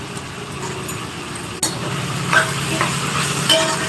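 Vegetables and soaked meal maker chunks fry in a pan with a steady crackling sizzle, punctuated by scraping stirs and a sharp clink partway through.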